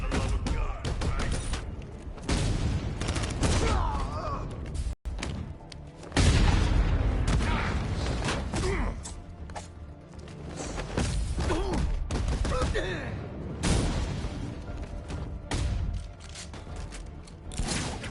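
Batmobile gunfire in the video game Batman: Arkham Knight, with continuous loud bursts of shooting, booms and mechanical clatter filling the whole stretch and a brief dropout partway through.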